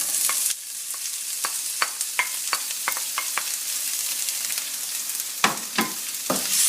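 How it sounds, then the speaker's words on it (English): Chopped onions and garlic frying in oil, stirred gently with a utensil, giving a steady loud sizzle broken by regular light scrapes and taps, close by. "gently so the oil and the garlic is mixed with the onions."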